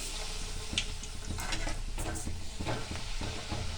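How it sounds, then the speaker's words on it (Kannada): Spinach puris made with chiroti rava deep-frying one by one in oil on medium flame, a dense continuous sizzle with light stirring and clinks of a pan close by. "ಇವಾಗ ನಾನು ಒಂದೊಂದೇ ಪೂರಿನ ಎಣ್ಣೆಗೆ ಹಾಕ್ಕೊತಾ ಇದ್ದೀನಿ"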